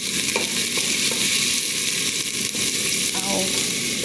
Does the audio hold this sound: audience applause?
no